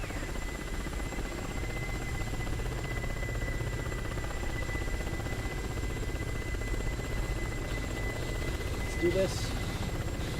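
A helicopter in the DCS World combat flight game spools up its rotor, a steady droning whine running under continuous talk from a player, with a faint tonal hum throughout.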